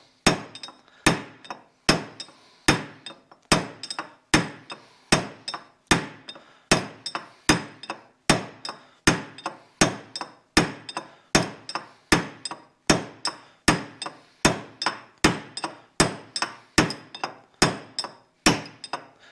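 Steady hammer blows drive a trailer wheel bearing down on a firm steel bench, about two strikes per second, each a sharp metallic clink with a quick ring-off, loud and close, repeating evenly with no talk.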